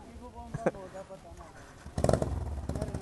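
A motorcycle engine revved for New Year's Eve bombahan night, with a short throttle burst early on and then a louder, sustained stretch of revving near the close, under ongoing talk from people nearby.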